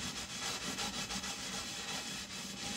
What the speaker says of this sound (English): You don't want to scrub too hard either.